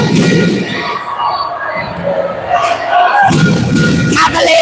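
A basketball crowd roars for the MK Breakers against the London Cavaliers late in the game, with loud surges of cheering at the start and again near the end and a quieter murmur between.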